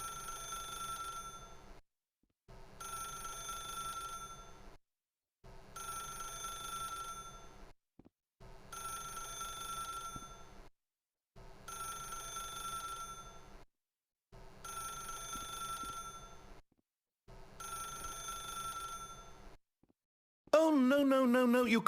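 An old telephone rings inside the video game The Stanley Parable, seven evenly spaced ringing bursts with short silent gaps, fairly close and clear, followed by a brief different tonal sound at the end.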